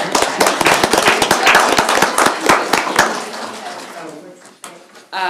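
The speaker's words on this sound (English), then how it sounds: "Can you clap for that?" An audience claps at a Leavenworth City Commission meeting after a proclamation for National Child Abuse Prevention Month, a dense run of sharp claps that thins out after about three seconds as speech takes over.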